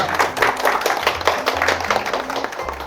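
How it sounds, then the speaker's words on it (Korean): An audience at an investment seminar applauds as a presenter is welcomed, a brisk roomful of clapping hands with uneven bursts, while low sustained tones hum faintly underneath. "큰 박수 부탁드리겠습니다"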